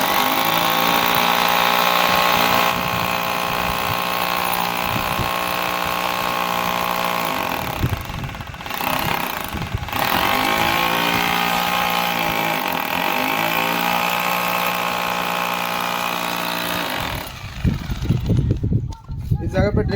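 A power drill bores into a brick wall while a dish TV is installed, a loud steady whine running almost without pause, briefly dipping and resuming, then stopping near the end.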